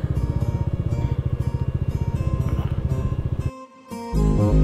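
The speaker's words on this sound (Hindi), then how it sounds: "इधर रोकते हैं बाइक।" A motorcycle on the road near Chicham Bridge in Spiti Valley throbs in a rapid, even pulse, then its engine note cuts away abruptly before a louder, rougher rumble returns.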